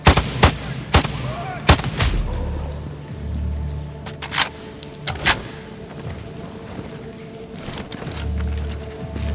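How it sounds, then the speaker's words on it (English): Several sharp gunshots from the video game Sniper Ghost Warrior Contracts 2 crack at irregular intervals, some in quick pairs, over a low rumbling background. "Just heard gunshots."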